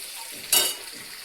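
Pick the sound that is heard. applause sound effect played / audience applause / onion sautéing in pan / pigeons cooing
onion sautéing in pan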